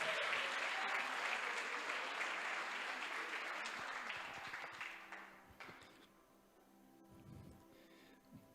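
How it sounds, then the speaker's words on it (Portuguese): Congregation applauding in a church service, dense sustained clapping that fills the room for about five seconds, then thins out and fades into quieter room noise. "Você pode aplaudir o Senhor?"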